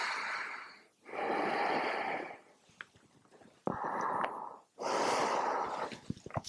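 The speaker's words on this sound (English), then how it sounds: "Couple of full breaths here." Slow, deep yoga breaths taken while holding warrior one pose. Each long, airy inhale and exhale is close and distinct, with short quiet gaps between them.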